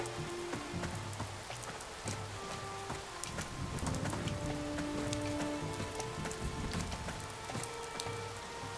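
Steady rain patters on surfaces in the fantasy game Vanguard: Saga of Heroes, a dense continuous hiss with scattered drips, mixed with faint game tones and no talking.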